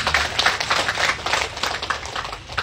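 An audience claps at the inauguration of the BNN office building in Sambas, a quick, uneven patter of hands rising and falling in pulses over a few seconds, with no talk.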